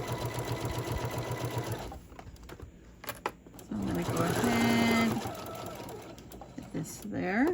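A sewing machine stitches an iPad sleeve, running in a steady rapid whir at first, then again in shorter bursts, while someone talks over it.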